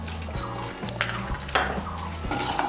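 Half a small spoon of black cumin (kalo jeere) is dropped into hot oil in a pan and sizzles softly, with light metal clinks and stirring close by, fairly quiet.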